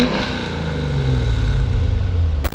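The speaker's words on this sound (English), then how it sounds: "Give it a couple revs." V8-swapped Mazda Miata engine blipped a couple of times, a loud close rumbling rev that swells and holds before cutting off sharply at the end.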